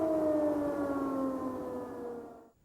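An air raid siren wails over Kyiv at sunset, a steady distant tone that slowly falls in pitch and then fades away.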